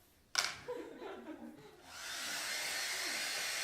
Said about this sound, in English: Will you turn off the hairdryer?